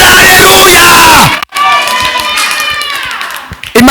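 A church congregation in Musanze erupts in loud cheering and shouting. The roar cuts out abruptly after a moment of silence, then resumes as a livelier, jubilant crowd noise.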